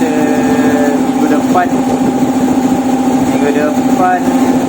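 A spray gun hisses steadily in a car workshop while a Perodua Myvi is painted. A constant engine-like drone runs underneath, and someone talks over it the whole time.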